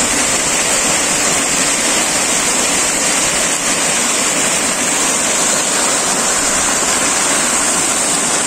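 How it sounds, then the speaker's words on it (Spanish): Natural waterfall at Charco El Campanario, a steady, loud, unbroken rush of falling water heard up close, with no voices. "Efecto cascada original,"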